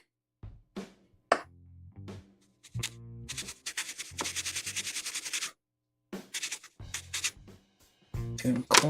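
A flat file rubs back and forth over a plastic part from a 1/100 Bandai Macross Glaug model kit, short scratchy bursts separated by pauses with one longer run of strokes, close and clear, with no talking.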